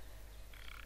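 A frog croaking in The Sims 4 game, a brief pair of high croaks near the end over a faint steady background hum.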